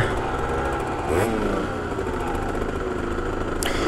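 A 50cc motorcycle engine running steadily on the ride to school, a close, continuous buzzing drone with a slight rise in revs partway through.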